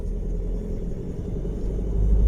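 A 2020 Ford Transit Custom 170HP van drives in third gear, its engine giving a steady, close, low rumble that swells slightly toward the end, with no talking.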